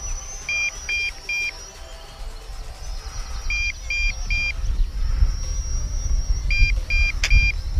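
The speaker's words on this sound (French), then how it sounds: "il commence à biper parce qu'on est à 2 points de batterie" An MJX X104G GPS drone gives its low-battery warning as groups of three short high beeps repeated several times, heard over a steady motor whine and outdoor wind rumble.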